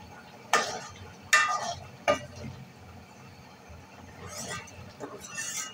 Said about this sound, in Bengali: গরম মশলার গুঁড়ো দিয়ে ভালোভাবে নাড়াচাড়া করে